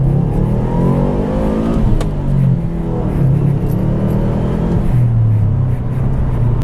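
A 2005 Saab 9-2X Aero with a turbo engine drives and accelerates, its loud engine note climbing through the gears in a steady, close-up rumble.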